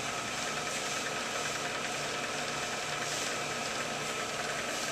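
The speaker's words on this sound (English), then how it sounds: "I'm going to run this down, and I'm going to do a scratch cut" A brake lathe runs a scratch cut across a brake rotor, giving a steady faint mechanical hum and grind with a light pulsing texture, continuous with no talking.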